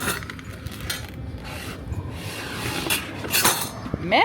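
Small first-aid scissors rasp and crunch through a pizza with rough scraping strokes and a few light clinks, close and fairly loud, with faint voices in the background.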